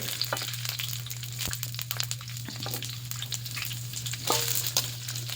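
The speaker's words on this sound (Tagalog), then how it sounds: "Prituhin na natin i-fried natin ng konti ang ating sitaw" String beans (sitaw) fry in a pan with a steady close sizzle, punctuated by crackles and stirring scrapes, over a low constant hum.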